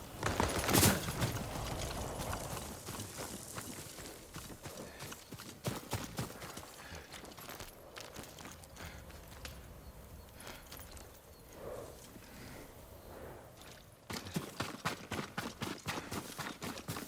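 Steady clip-clop of horse hooves trotting in Ghost of Tsushima, a continuous rhythmic patter with light background ambience and occasional soft mechanical clicks.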